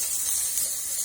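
Chilies, pepperoni, chicken and leftover mince sizzle over moderate heat in a frying pan, giving a steady, even hiss that carries on without break, with no voices.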